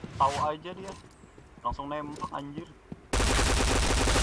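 Gunfire in the shooter Point Blank, a sudden loud burst of rapid shots that cuts in near the end and keeps going, following a few seconds of excited talk.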